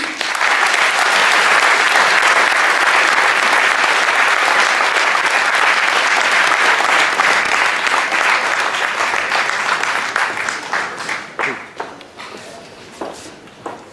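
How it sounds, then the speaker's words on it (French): Loud, sustained applause from a crowd, steady for about ten seconds before thinning out into a few scattered claps at the end. "je vous demande de faire un tonnerre d'applaudissements à Naïm Bali."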